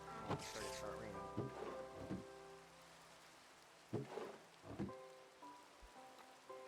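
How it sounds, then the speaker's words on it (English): Rain falls steadily in Minecraft, a soft wash of drops behind several dull thumps and faint tonal game sounds, with no talk. "Oh, it's starting to start raining."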